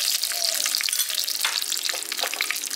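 Bay leaf, a dried red chilli, whole garam masala and cumin seeds fry in hot white oil, giving a steady bright crackling sizzle with scattered pops and light stirring throughout, close and alone.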